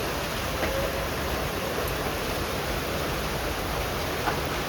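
A steady, dense roar of heavy rain mixed with falling hail pours down without pause, a constant hiss filling the air with an occasional faint tap.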